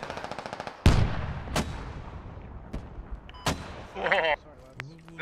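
A tank in the game Squad blasts a target with sharp, loud explosive bangs and gunfire cracks spread across a few seconds, each with a booming low tail, over ongoing battlefield rumble.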